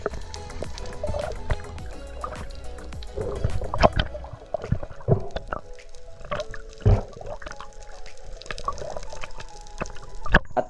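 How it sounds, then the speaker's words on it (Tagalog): A small boat passes on open water near a rock during a fishing trip, heard as steady lapping and sloshing with scattered drips and splashes at moderate distance, with no voices. "naririnig ko na may bangka na dadaan"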